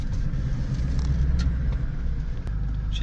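A Toyota Land Cruiser drives over wet ground, its engine giving a deep steady rumble close by with faint rattles and creaks from the cabin.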